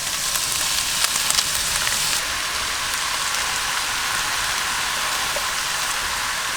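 Vegetables, beans and minced garlic frying in a pan in a camper van kitchen, a steady dense sizzle with crackle, fairly close and even throughout, no talking.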